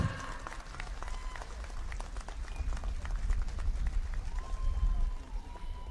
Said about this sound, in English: I request everybody to kindly clap.